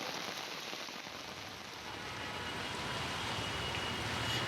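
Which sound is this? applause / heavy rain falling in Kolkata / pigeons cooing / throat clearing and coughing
heavy rain falling in Kolkata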